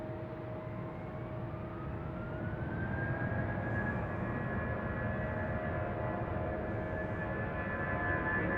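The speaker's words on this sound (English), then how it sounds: "American Airlines 174 coming in from London Heathrow." An American Airlines Boeing 777 arriving at Raleigh-Durham airport makes a steady, moderately loud jet roar with a rising whine as it approaches.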